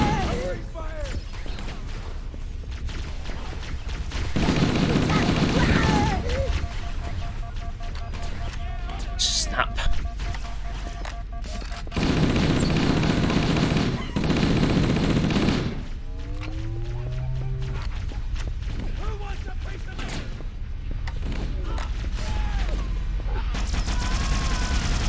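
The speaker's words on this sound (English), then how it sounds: "I don't like it when the explosions are going off." Bursts of gunfire and explosions from the Halo Combat Evolved video game come in several loud clustered stretches amid steady battle noise, with people talking throughout.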